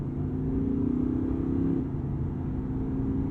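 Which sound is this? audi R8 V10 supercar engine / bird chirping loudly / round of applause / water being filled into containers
audi R8 V10 supercar engine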